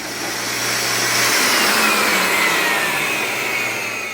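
Steady loud rushing air roars through pool plumbing lines as water is blown out while a swimming pool is winterized, a continuous motor-driven blast with gurgling hiss, no talking.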